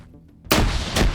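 A single sharp gunshot in a competitive video game match cracks suddenly after a brief quiet, loud and close, with its report ringing out to the end.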